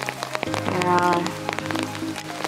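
Steady patter of rain falling in a bamboo forest in Kyoto, with scattered drips and taps over a continuous wash, fairly close and moderately loud.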